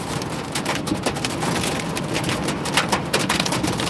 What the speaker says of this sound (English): Torrential rain.